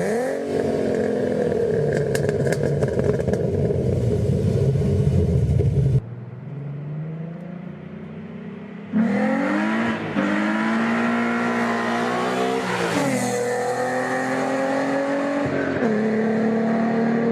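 A Ford Mustang 3.7 V6 with long tube headers, an off-road X pipe and Magnaflow exhaust rumbles and revs loudly, dropping briefly to a quieter idle before accelerating again with rising, throaty exhaust tones.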